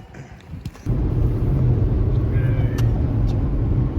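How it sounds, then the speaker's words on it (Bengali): A car cruises along a road on a North Carolina road trip, heard from inside the cabin as a steady, loud low rumble and drone that begins abruptly after a few faint knocks. "এখন আমি চালাচ্ছি"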